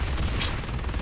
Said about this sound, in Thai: ยิงกันมันมาก